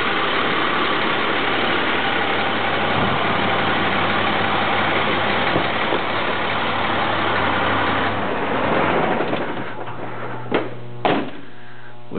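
A 2002 International 4300 DuraStar wrecker with a DT466 diesel idles steadily and loud up close, a constant low rumble that runs unbroken before a couple of sharp clunks, like a door or latch, near the end.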